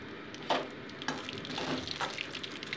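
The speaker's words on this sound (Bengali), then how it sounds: "এবার তেলের উপর দিয়ে দিচ্ছি আমি কালো জিরে ফোড়ন।" Nigella seeds tempering in hot oil, right after fish has been fried for a mustard curry, with a soft sizzle and crackle plus a few sharp pops and spatters, close and fairly quiet.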